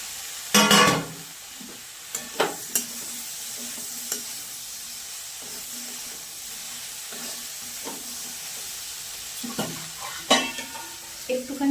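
Green beans and capsicum fry in a pan, with a soft continuous sizzle punctuated by sharp scrapes and clinks of a spatula stirring against the pan, close and clear with no talking.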